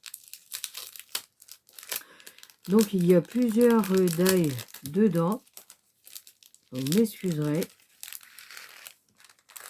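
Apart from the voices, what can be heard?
plastic packaging crinkling as it is opened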